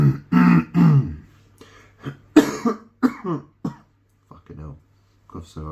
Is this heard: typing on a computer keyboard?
no